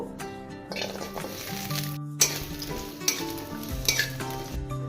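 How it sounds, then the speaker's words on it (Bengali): Pieces of moringa drumstick frying in oil in a kadai sizzle steadily, with several crisp clinks and scrapes as they are stirred, close-up under background music. "ডাটাগুলো ভেজে নিব"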